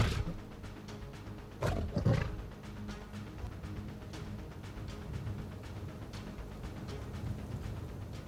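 Low, rumbling lion roars on the African savanna come in a few deep bursts over faint background ambience, moderately distant and not very loud, with no voices present.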